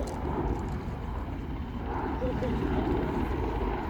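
An aircraft flying a barrel roll at the RIAT airshow, a continuous loud engine and propeller roar that holds steady, with a commentator talking over the noise.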